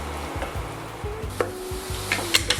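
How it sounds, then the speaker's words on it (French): Fennel cooking dry in a pan being stirred, a utensil scraping and knocking in a repeating rhythm over a soft sizzle, with a few sharp clinks near the end, close and unaccompanied by talk. "Il faut quand même venir remuer un peu de temps en temps."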